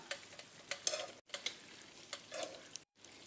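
Cauliflower frying golden in a pan as pieces are turned over, with soft crackling sizzle and scraping stirs coming in short bursts, close and quiet, with no talking.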